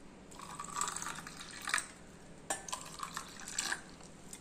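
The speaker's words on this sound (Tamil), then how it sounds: "தண்ணி ஊற்றிக்கலாம்" Water trickles and splashes into a glass in a few short pours, soft and close, with faint clinks in between and no talking.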